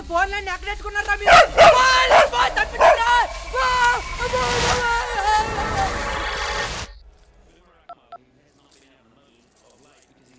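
Dogs bark in a run of sharp, loud yelps mixed with agitated human voices close by, then everything drops to near silence with only a few faint sounds afterward.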